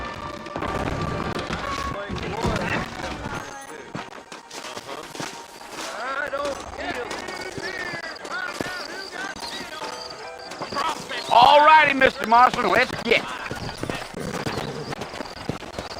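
Horses clip-clop in Red Dead Redemption, their hoof beats steady under game music and speaking voices, with a louder stretch partway through where a horse whinnies.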